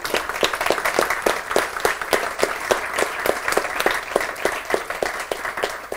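Audience applause at an award ceremony for members of an Italian Odoo association, a loud steady burst of many hands clapping with distinct sharp claps standing out, continuous throughout.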